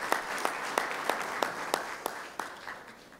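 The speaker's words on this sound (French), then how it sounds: "Merci de l'applaudir très fort." A small audience at the opening ceremony of a youth forum applauds the minister, with distinct individual claps standing out in an uneven rhythm over a thin background of clapping and faint murmuring.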